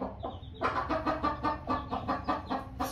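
Hens in a coop, one of them a red broody hen, cluck in a steady run of short rhythmic calls, close and fairly quiet, with no talk over them.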